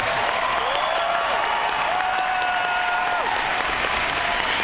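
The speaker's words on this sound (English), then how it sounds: "Oh, you're clapping, that's why I was curious." Sustained applause fills a crowd at a Bernie Sanders rally, dense and steady throughout, with faint cheering and whistles riding over it.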